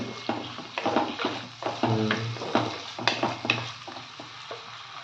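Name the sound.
curry leaves being sautéed in a pan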